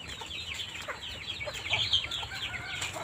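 Several chicks peep continuously with high, rising chirps that overlap one another, close by and fairly loud, with no talking.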